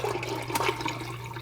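Homemade vegetable stock for a late-summer minestrone pours steadily into a soup pot, a continuous close liquid splash and gurgle with no talk.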